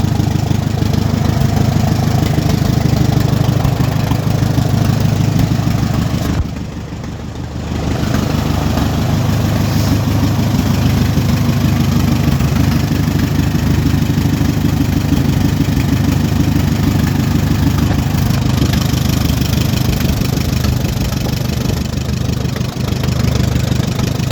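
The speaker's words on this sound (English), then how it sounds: "And now the shutting off procedure for these tractors." An Allis Chalmers WD45 tractor engine idles loud and close with a steady low rumble, dipping briefly before running on evenly.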